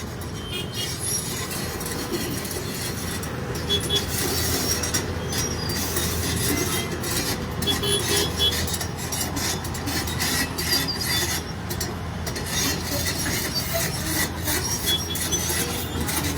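Heavy road traffic moves in Porvorim beside a working Poclain excavator. A dense, continuous rumble carries grinding, scraping metallic squeals throughout, with no talking.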